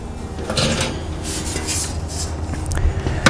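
A slide grill lever on a Camp Chef Woodwind pellet grill pulled open, giving a close metallic scraping and clanking with a few sharp metal knocks, loudest near the end.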